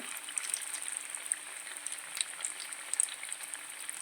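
Bread tikka frying in a pan until golden brown, a soft continuous sizzle with scattered small crackles and pops, fairly quiet and alone.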